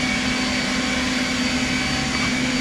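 A leaf blower runs steadily from a rider on horseback, a loud, close, continuous whooshing drone with a constant motor hum throughout.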